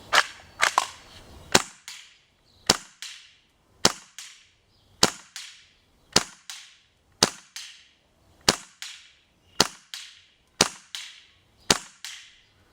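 A KWA Kriss Vector airsoft gun fires 0.2 gram BBs in a grouping test at 18 meters: about a dozen sharp, loud single cracks at a steady pace of roughly one per second, with a short cluster of quicker shots at the start and no talking.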